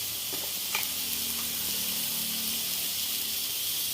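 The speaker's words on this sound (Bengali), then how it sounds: "একসঙ্গে সব পাতা দিয়ে দিলাম একসঙ্গে ভাজা হয়ে যাবে" Kohlrabi, onion and greens fry together in hot oil with a close, steady sizzle and occasional faint stirring taps throughout.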